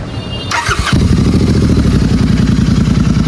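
A Royal Enfield Continental GT650 with an engine problem starts up, then settles into a loud, close, steady rhythmic idle with a clattery thump.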